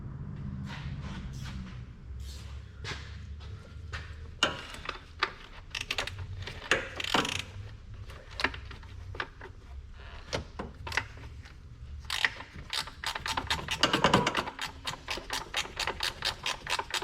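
A ratchet loosens 10mm bolts on a Jeep Cherokee engine during spark plug replacement, giving bursts of close, rapid clicking and scraping metal mechanism sounds in uneven runs.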